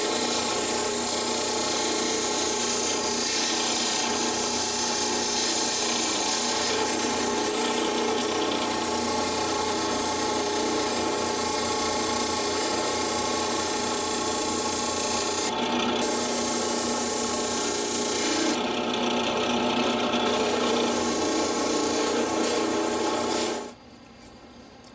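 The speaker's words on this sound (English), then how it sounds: "now I just have to basically grind to match the shape of the tang" A steady, continuous abrasive grinding drones for nearly the whole stretch as a custom fixed-blade kwaiken knife's tang and scales are ground to shape, loud and unbroken, with a few brief higher scraping changes before it suddenly drops off near the end.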